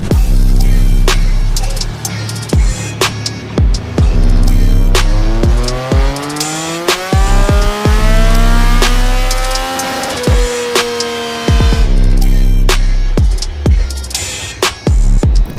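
A Yamaha R9 sport motorcycle engine roars close and loud on a racetrack, its pitch climbing and falling through repeated gear changes with sharp shift cuts across a sustained run.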